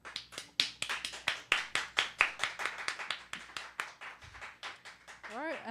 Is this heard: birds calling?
no